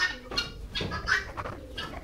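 A Tithi hen gives several short clucks and soft calls in uneven bursts, moderately close, over quiet farmyard background.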